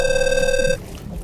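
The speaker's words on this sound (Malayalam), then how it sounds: "എന്താ ഫോൺ അടിക്കണേടാ" A cartoon telephone rings with a sharp electronic trill, one loud burst that cuts off suddenly and leaves a quiet background.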